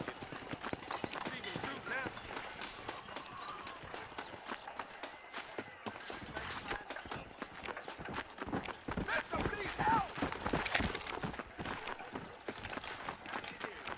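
Horse hooves in Red Dead Redemption clip-clop at a running pace, close and steady, with voices and other game sounds layered over them.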